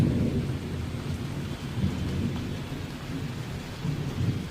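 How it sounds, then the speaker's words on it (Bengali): Thunder rumbling over steady light rain, a continuous low roll with a few swells in strength, no voices. "বৃষ্টি পড়ছে এই আস্তে আস্তে"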